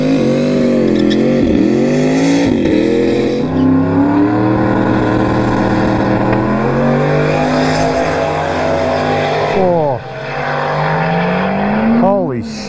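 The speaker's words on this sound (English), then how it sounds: "So we'll get the tires warmed up." Harley-Davidson motorcycle engine revving loudly and continuously at a drag strip during a tire warm-up, with rising and falling pitch sweeps as the throttle opens and closes, and voices speaking over it.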